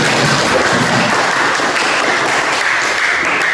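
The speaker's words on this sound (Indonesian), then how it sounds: "Tepuk tangan." Classroom students applaud during a coding and computational-thinking lesson: a dense, steady wash of many hands clapping at once, filling the whole stretch at an even, fairly loud level.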